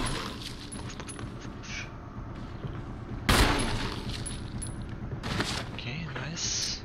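Gunshots in the video game Resident Evil (1998) as Chris fires, several sharp reports with one loud blast near the middle, over game sounds with people talking throughout.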